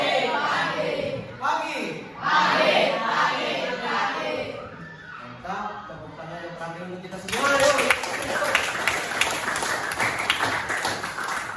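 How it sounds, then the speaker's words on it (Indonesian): A class of schoolchildren clapping in a classroom lesson, bursts of applause mixed with loud young voices and a teacher speaking, the clapping swelling near the end. "Mantap, tepuk tangan"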